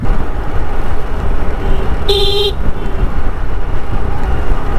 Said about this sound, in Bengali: আমার সেই স্পেশাল ডবল হর্ন।